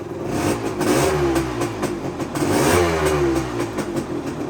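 A 1975 Yamaha DT250 motorcycle engine revs up in a couple of strong bursts, the pitch rising and falling, then drops back to a steady idle each time, loud and close.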